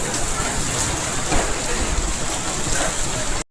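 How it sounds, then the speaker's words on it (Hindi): Hail drumming on a tent during a storm, a dense, loud, continuous pattering roar of countless small impacts that holds steady for a few seconds before cutting off abruptly. "ये देखो ओले पड़ रहे हैं।"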